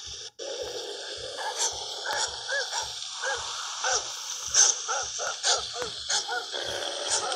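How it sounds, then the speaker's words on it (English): Dog barks repeat in a steady rhythm through a horror video game scene with zombies, set against a dense, noisy wind-like ambience. "You'll find this dog under some barrels and crap."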